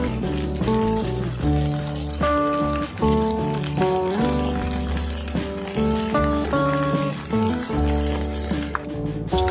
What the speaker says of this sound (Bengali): আমাকে মাছগুলো ভালোভাবে ভেজে নিতে হবে